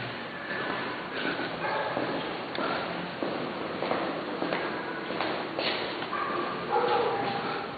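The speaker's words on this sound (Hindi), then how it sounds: "किसको देख के भौंक रहा है?" A dog barks repeatedly in short uneven bursts at a moderate distance, some yips mixed in, over a muffled, noisy background with no other clear sounds.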